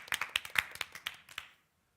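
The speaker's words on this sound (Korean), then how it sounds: "박수." A small group claps at a community musical performance, a quick burst of sharp hand claps lasting about a second and a half before stopping abruptly.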